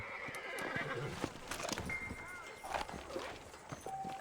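A horse whinnies and snorts amid clopping hooves in the Red Dead Redemption video game, with scattered thuds and a faint voice in a quiet outdoor setting.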